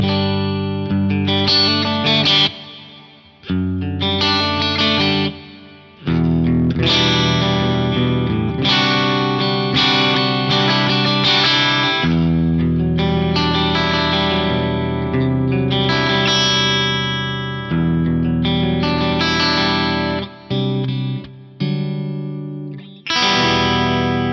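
Distorted electric guitar chords ring out in phrases through a Fractal FM3's Coliseum reverb at stock settings, each washed in a huge, lingering reverb that fills the pauses between them.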